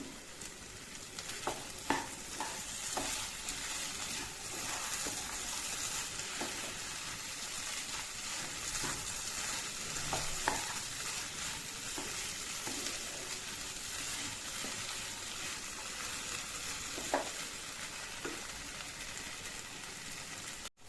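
Chickpeas fry in a pan with a steady, fairly quiet sizzle, broken by occasional light clicks and stirring taps over a long stretch.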